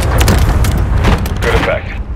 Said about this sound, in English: Request an airstrike at this location.